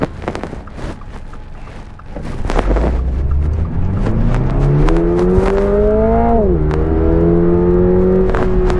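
A 2022 Toyota GR86 with automatic transmission in track mode revs hard from rest, its engine note rising steadily through the gears, loud and close, with a brief dip at a shift before climbing again.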